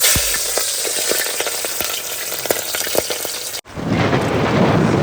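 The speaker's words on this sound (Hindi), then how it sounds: "ओए भाई, बिजली कड़की भाई।" Heavy rain pours steadily over a campsite, and a sudden sharp thunder crack cuts through it before the roaring downpour resumes. No voices are heard.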